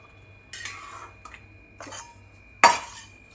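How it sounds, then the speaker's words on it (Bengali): Cooked curry being scooped from a cooking pot: a few scattered metallic scrapes and clinks of a spoon against the pot, the last one loudest and ringing briefly, with quiet gaps between. "এবার আমি একটু তুলে নিই তরকারিটা।"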